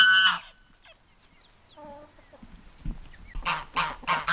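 Hungry chickens clucking and squawking in short harmonic calls: a burst at the start, softer calls in the middle, then a loud rapid cluster near the end, close to the listener.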